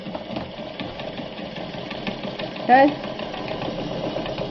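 A Japanese Free Westinghouse household sewing machine stitches fabric with a steady mechanical whir, heard close and moderately loud throughout, while a person speaks briefly over it.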